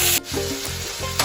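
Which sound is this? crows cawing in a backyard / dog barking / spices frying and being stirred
spices frying and being stirred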